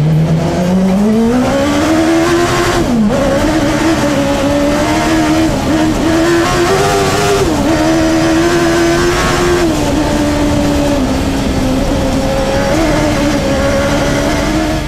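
A car powered by a Yamaha R1 motorcycle engine, revving toward 14,000 rpm, screams loudly and continuously as it drives fast, its high engine note rising and falling through shifts, with faint tire noise and no talk.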